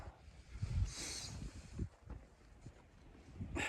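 Strong wind buffets and roars steadily around a foggy, cold winter wild camp in the UK, with gusts swelling and easing against the microphone.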